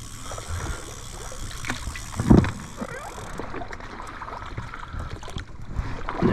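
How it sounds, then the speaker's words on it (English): A kayak paddled solo from the back seat on a river in France during a fishing trip: soft rhythmic paddle strokes and water swishes, close by, with wind rumbling across the microphone. "I sit on the back, and I paddle frontwards."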